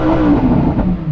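Lamborghini Huracán STO's naturally aspirated V10 revs hard toward its soft limiter, a loud, close, continuous engine roar with a rising, wavering pitch through the whole burst.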